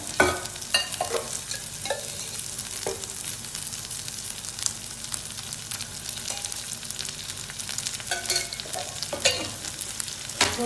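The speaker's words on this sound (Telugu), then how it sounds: "గోల్డెన్ బ్రౌన్ వచ్చేదాకా వేయించుకోండి." Food fries in ghee while being stirred for an egg dum biryani. A continuous close sizzle carries intermittent scraping stir strokes for about ten seconds, and nobody speaks.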